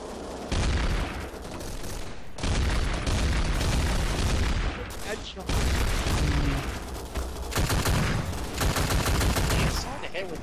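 Gunfire in a Garry's Mod Gun Game match: loud, dense bursts of rapid shots broken by short pauses, repeating across the whole stretch.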